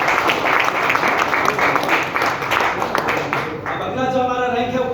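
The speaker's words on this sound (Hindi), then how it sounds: "मोहित सर, कैरुल सर और दिलीप सर के लिए एक बार जोरदार ताली होनी चाहिए" A crowd at a business gathering in India gives loud, sustained applause for the guests, with voices rising over the clapping toward the end.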